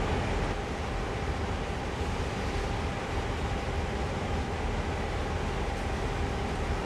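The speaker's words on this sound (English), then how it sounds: "Have another one coming from behind us, moving past us here in just a second." A passenger train rolls past on the NEC New York line in Train Sim World, a loud, steady, close rumble of wheels and wagons with no letup and no voices.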